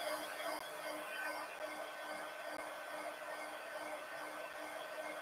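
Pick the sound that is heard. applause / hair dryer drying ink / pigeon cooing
hair dryer drying ink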